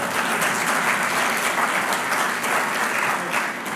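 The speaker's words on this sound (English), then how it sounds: "Everybody likes a nice round of applause." Audience at a political speech breaking into a dense, sustained round of applause, loud and continuous throughout with no talking over it.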